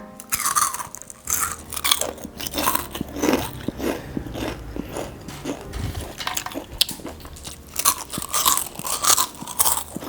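Deep-fried crab sticks are bitten and chewed close to the microphone, giving a steady run of sharp, crisp crunches and crackles over about ten seconds, fairly quiet overall and with no talk.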